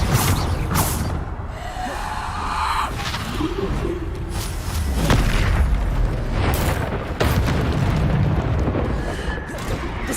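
A Bombarda explosion spell in a video game, with heavy booming blasts and rumbling debris over a dense, loud mix of continuous game combat sound.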